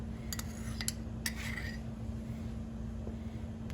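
A metal spoon clinks a few times against dishes while swordfish is being plated, with sharp, brief taps early on over a steady kitchen hum and no talking.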